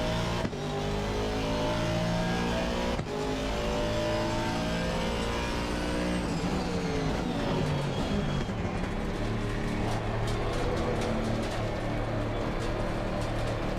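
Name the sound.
car engine in Assetto Corsa Evolution racing video game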